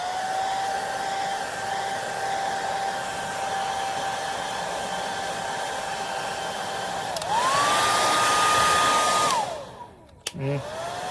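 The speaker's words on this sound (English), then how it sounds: "Get rid of the dryer hair." A hair dryer drying a foam puppet blows with a steady whine, switches to a louder, higher setting for a couple of seconds, then winds down and clicks off.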